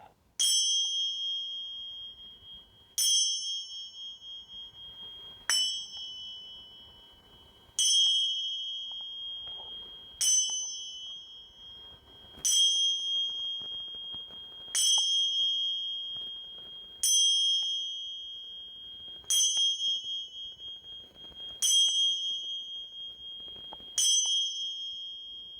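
Small bells ring out during a Reiki healing session, eleven clear bright strikes at steady intervals of about two seconds, each sustaining a high ringing tone that decays before the next, close and alone with no talk.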